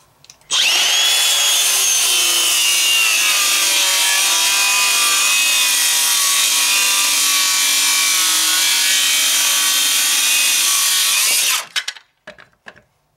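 A Makita XSH03 18V LXT brushless cordless 6-1/2-inch circular saw rips through wood in one loud, continuous, close-up cut of about eleven seconds, then winds down and stops.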